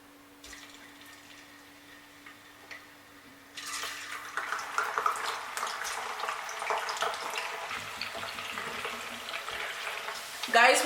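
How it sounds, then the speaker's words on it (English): Shrimps and onion hit hot oil in a pot for Cameroonian ndole, starting a loud, continuous close sizzle partway through that carries on steadily with occasional stirring clatter, no talking. "when you notice that your oil is hot enough, fry your shrimps and your onion"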